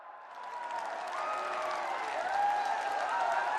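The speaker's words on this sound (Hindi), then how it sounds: "मैं चाहूंगी आप सब अपनी तालियों के प्रणाम से माननीय प्रधानमंत्री महोदय का स्वागत करें" Sustained audience applause welcoming Prime Minister Modi at a public development event in Kushinagar, Uttar Pradesh, a dense steady clapping crowd that swells slightly and holds throughout.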